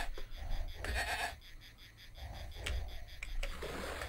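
Sheep bleat repeatedly in the Amiga strategy game Powermonger, several short wavering calls spread over a few seconds above a steady, low game background hum.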